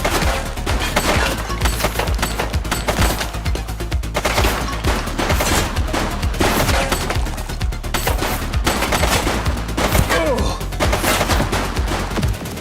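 Repeated gunfire from the police video game The Precinct, sharp shots and bursts crackling steadily over a dense layer of game music and effects, loud and busy throughout.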